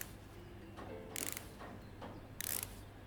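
Screws driven into a device case in the Electrician Simulator game, two short buzzing ratchet-like whirs about a second apart over a faint steady hum.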